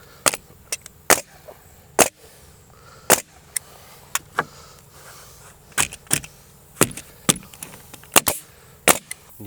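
A power fastening gun fires into cedar shake siding on a tiny house, giving sharp, loud snapping shots in irregular bursts, about twenty over nine seconds, with quiet gaps between them.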